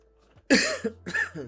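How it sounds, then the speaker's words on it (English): A couple of sharp, close coughs in quick succession, followed by a short throat-clearing rasp, against an otherwise quiet background. "Sorry for the coughing, guys."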